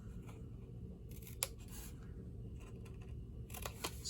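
Scissors snip through paper to cut square and mitered edges for a small box; a few quiet, crisp cuts come in short bursts over a low steady room hum.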